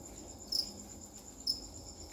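Thai field crickets on a farm keep up a faint, steady high trill, broken by two brighter, louder chirps about a second apart, close by and without voices.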